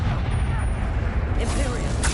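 Bombarda explosion spell in the Hogwarts Legacy video game, heard as a sudden booming burst late in the clip after a rumbling stretch, with voices in the mix.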